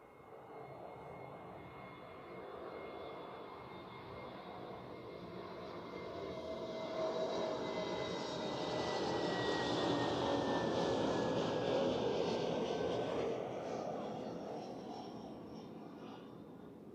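A departing airliner on runway 16 at Zurich Airport roars at a distance, its engine noise building steadily and swelling to a broad peak before easing slightly, with whining engine tones sweeping across the wash of sound.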